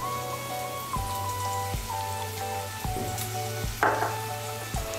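Onion with garlic paste frying in a pan for a Bengali cauliflower curry, a dense, steady sizzle with periodic scraping stirs and a low hum running underneath throughout.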